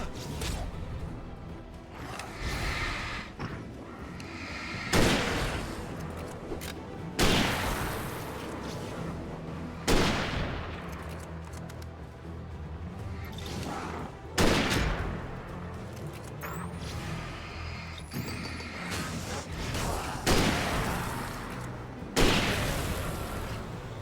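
Gunfire in the Alan Wake video game, from a shotgun and a hunting rifle: loud, booming single shots ring out every few seconds over a dense, rumbling ambient bed, each blast decaying slowly.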